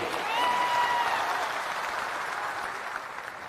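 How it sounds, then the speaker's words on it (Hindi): An audience at a political event in Bihar breaks into applause to welcome a guest, a steady burst of clapping that swells briefly and then slowly tapers. "एक बार जोरदार ताली से इनका स्वागत कीजिए।"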